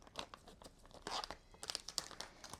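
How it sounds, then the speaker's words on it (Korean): A plastic pouch of hotteok mix is torn open at its notch in a kitchen, giving quiet, close crinkling and ripping sounds in short irregular bursts over about two seconds, with no talking. "이 홈을 잡고 비닐봉지를 뜯어주면 됩니다"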